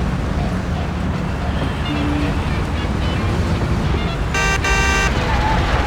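Car horn honking in the Mafia video game during a street race, a sustained harmonic honk lasting about a second near the end, over steady loud engine and traffic noise.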